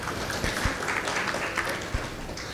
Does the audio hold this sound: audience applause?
yes